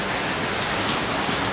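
Steady rain falls outdoors in a continuous, even hiss with no breaks and no voices.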